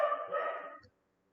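A single short dog bark or yelp at night outdoors, fairly close and alone, cutting off abruptly into silence.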